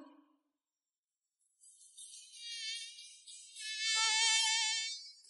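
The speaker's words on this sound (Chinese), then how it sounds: "这都几月了还有蚊子？" A mosquito whines close by after a moment of silence, its thin, wavering buzz growing louder and nearer toward the end.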